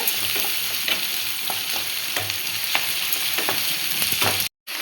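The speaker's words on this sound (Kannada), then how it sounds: "ಈರುಳ್ಳಿ ಸ್ವಲ್ಪ ಕಂದು ಬಣ್ಣ ಬರಬೇಕು" Onions frying in a pan until lightly browned give a steady, close hiss with the light scrape of stirring throughout, ending in a brief drop to silence.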